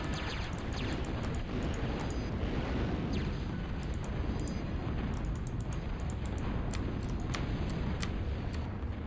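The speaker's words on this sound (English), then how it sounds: "I think we had a chain reaction of crawling bombs there." A chain reaction of crawling bombs exploding in a video game, heard as a continuous loud roar of blasts and rumbling debris with sharp crackling bursts on top, dense and unbroken throughout, with no voices.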